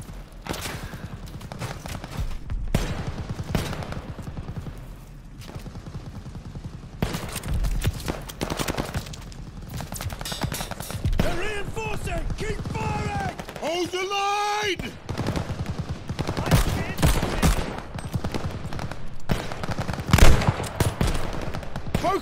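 Sustained machine gun fire in the video game Call of Duty: Vanguard rattles through a chaotic battle, with bursts of shots, explosions and shouted voices over it.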